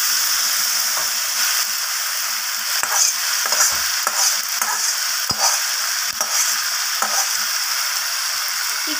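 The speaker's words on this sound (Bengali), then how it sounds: "এরপর এতে দিয়ে দেব ম্যারিনেট করে রাখা চিকেনটাকে।" Marinated chicken sizzles loudly in a hot pan while being stirred, a dense hiss with repeated sharp scrapes and clicks of the spoon, close up and with no voices.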